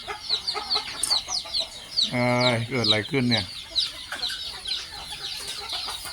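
A chicken clucks in short bursts while pecking at a person's nose, close and fairly loud over a background of chirping birds, with a brief spoken exclamation in Thai.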